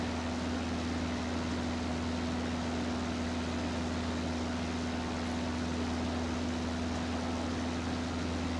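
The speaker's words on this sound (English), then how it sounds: "Listen to the wind noise and the engine RPM" Inside a Flight Factor A320 in the X-Plane 11 flight simulator, a steady airy wind hiss blends with a constant engine drone and a sustained low tonal hum, unchanging and uninterrupted throughout.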